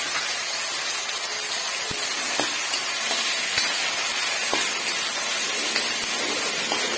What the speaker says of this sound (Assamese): এইখিনি মই অকণমান ভালকৈ ভাজি ল'ম ৰঙা নোহোৱালৈকে।